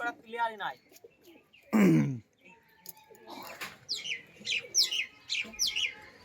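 Pigeons coo and chirp in short, scattered calls at close range, mixed with a voice speaking in between.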